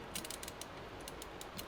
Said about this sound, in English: Let's go ahead and get some screws in here.